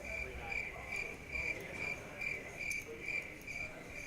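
Crickets chirp as a sound effect in a steady, evenly pulsing trill, soft and continuous with no other sounds.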